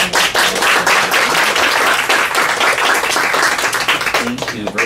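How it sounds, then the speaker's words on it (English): Loud, dense audience applause with steady clapping fills the room for several seconds after a panel with three authors, a continuous wash of hands with a few voices mixed in. "Let's go ahead and give them a round of applause."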